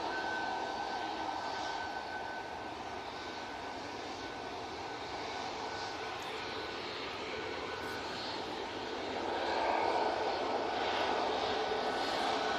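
A Ryanair Boeing 737 MAX jet airliner at Manchester Airport gives a steady, distant engine roar that swells slightly toward the end, with no talking.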